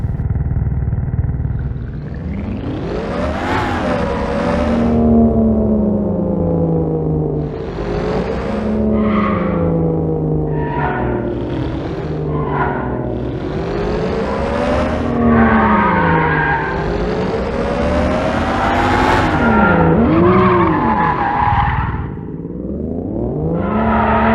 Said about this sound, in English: I also added skids and braking sounds.